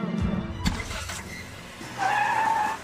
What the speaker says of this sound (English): He's kangarooing to make it look like Dom is driving for the very first time.